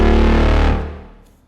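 A dark, distorted brass synth stab made in Vital rings out loud and buzzy, holding steady for under a second before fading away on its own.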